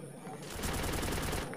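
A short burst of rapid automatic gunfire rattles through a battle royale video game, about ten evenly spaced shots in quick succession, moderately close.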